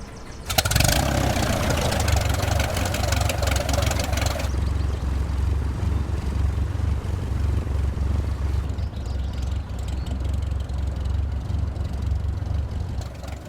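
A floatplane's engine drones steadily in flight along a stretch of coast, a continuous loud, close hum with a low throbbing tone that holds evenly throughout, with no talking.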